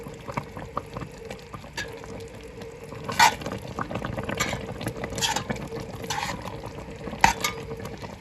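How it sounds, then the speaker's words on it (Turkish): Thick apricot jam bubbling in a pot, with soft irregular pops and gurgles and occasional louder clinks, close by and without talk. "Kayısı reçelimiz şöyle kaynıyor bakalım."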